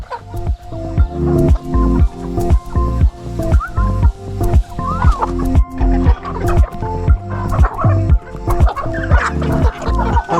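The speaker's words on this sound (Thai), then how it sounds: "ไก่ที่อยู่ในฝูงชุดนี้ที่เราทำการให้ยาไป" A flock of chickens kept together on a farm, giving a dense, continuous chorus of clucks and calls in a steady pulsing rhythm, close and loud with no speech.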